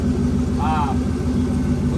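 A GM LS1 V8 with an LQ9 cam, fitted in a turbocharged BMW E46, idles steadily with a low, throbbing engine pulse, loud and close, while a voice briefly speaks over it.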